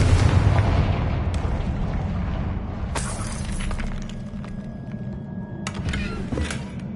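The Confringo blasting spell explodes in Hogwarts Legacy with a loud burst and shattering debris at the start, then a few sharp cracks and crumbling clatter follow over the game's background hum.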